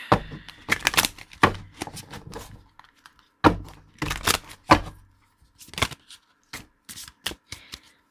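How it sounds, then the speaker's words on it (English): Tarot cards being shuffled and drawn, sharp riffling bursts and snapping card slaps coming in uneven clusters, close and fairly loud with short gaps of near silence between them. "So let's pull some cards here."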